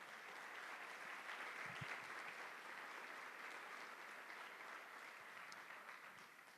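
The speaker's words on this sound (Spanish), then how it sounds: "Denle un aplauso a Dios por eso." A church congregation applauding, sustained clapping from a crowd that holds steady for several seconds and then begins to taper off.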